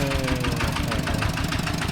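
A tractor engine runs steadily in a rural village in Laos, a loud, close knocking chug with a continuous rattling rhythm and no talk over it.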